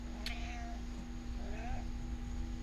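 A cat meows twice nearby, drawn-out calls separated by a short pause, over a quiet background hum.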